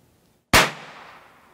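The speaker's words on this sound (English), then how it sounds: "move the safety to the fire position, and fire the rifle" A single shot from a Traditions bolt-action muzzleloading rifle: one sharp, loud crack followed by a short, fading echo, with near silence before it.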